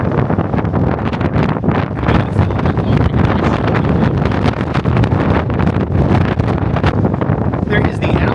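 Strong wind buffets the microphone at the top of the Tower of the Americas in San Antonio, a loud continuous roar with rapid gusty pulses throughout.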